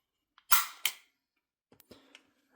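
A CZ P-09 pistol trigger is pulled in double action: two sharp, close mechanical clicks, then a few fainter small clicks and rattles after a pause, in an otherwise quiet room.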